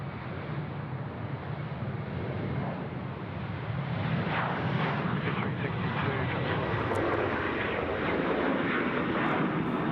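A Velocity 738 airliner fitted with split scimitar winglets takes off from a runway at Sydney Airport, its jet engines roaring loud and steady and swelling slightly as it climbs.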